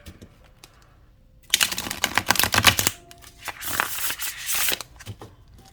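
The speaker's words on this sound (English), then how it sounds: "So I'm gonna give it a good shuffle" Two bursts of crisp riffling as a deck of bendy tarot cards is shuffled close up, separated by a short pause in a quiet room.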